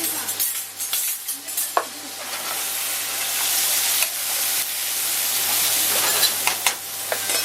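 Porcini mushrooms sizzle steadily in a hot pan, with a bright crackling hiss and occasional stirring scrapes, close and fairly loud.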